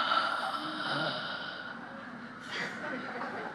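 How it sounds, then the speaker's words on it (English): A slow, deep inhale during a breathing exercise, a soft breathy rush that tapers off and is followed by another quieter breath. "And let's do the same inhale."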